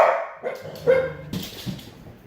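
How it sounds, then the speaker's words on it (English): Pet dogs barking indoors during a Felt Z5 bike assembly: several sharp, close barks and yips in quick succession, fairly loud, with no talking. "those are my dogs. Say hi, dog."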